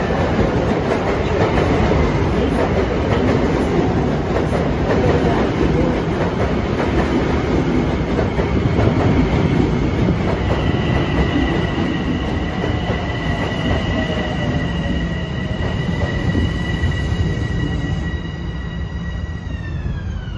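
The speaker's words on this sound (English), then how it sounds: "this is train 758 arriving, Penn Station to Hempstead" A Long Island Rail Road commuter train rolls into Elmont station with a steady rumble and clatter of wheels, ending in long high brake squeals as it slows to a stop.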